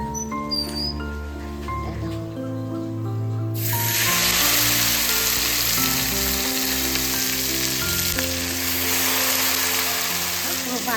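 A Thor recipe mixture with green chillies hits hot oil in a wok and bursts into a loud, steady sizzle that continues for several seconds, over a background of sustained musical tones.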